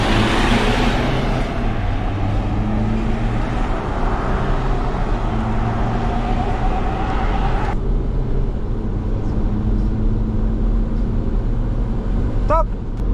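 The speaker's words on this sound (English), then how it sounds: "I'm just going to throw it in sports mode, and I'm just going to, go 0 to 100" A GWM Cannon ute in sports mode accelerates hard from standstill towards 100 km/h, heard from inside the cab as a steady loud engine drone with rising harmonic tones that drops off sharply near the end, with no talk.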